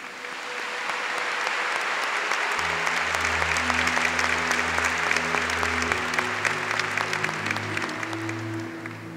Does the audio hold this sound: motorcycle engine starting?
no